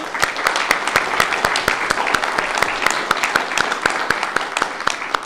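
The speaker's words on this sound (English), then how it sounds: "Can we have a round of applause for all of our spellers?" An audience at a county spelling bee for seventh and eighth graders gives the spellers sharp, steady applause, individual claps distinct and close, continuing evenly throughout without anyone speaking.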